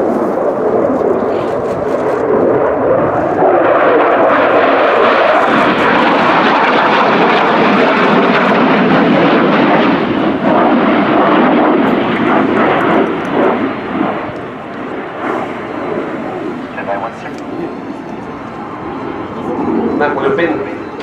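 Polish Air Force MiG-29 Fulcrum jet performing a flying display at an air show, its loud, broad engine roar rising and sustained throughout, with a commentator talking over it.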